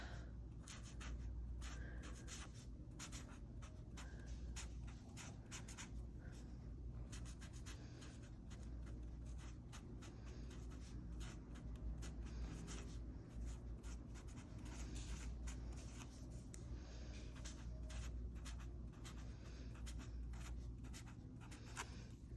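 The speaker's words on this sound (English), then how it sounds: "I think I'm just gonna write it in print." Handwriting with a brighter green Mildliner highlighter pen in an Erin Condren teacher lesson planner: steady, soft scratchy strokes on paper, close up and quiet, continuing for over twenty seconds with no talking.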